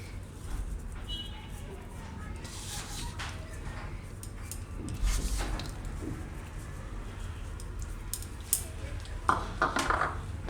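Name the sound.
stirring jaggery into a hot mixture in a pan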